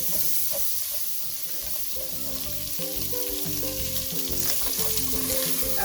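Pre-boiled beef fries in a pot for beef pilau, giving a steady loud sizzle with occasional stirring scrapes and faint clinks, close by and uninterrupted.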